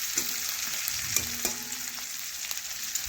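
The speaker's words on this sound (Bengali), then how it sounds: "পেঁয়াজটা একটু লাল লাল করে ভেজে নিতে হবে" Onions frying in a pan until reddish-brown for a bottle gourd and shrimp dish: a bright, continuous sizzle close up, broken by scraping stirs and small clicks of the spoon.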